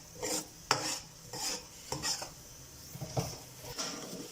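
Masala is stirred in a pan over high heat for kadhi pakora, with soft rhythmic scraping strokes roughly every half second. A faint sizzle sits underneath, quiet and close, with no talking.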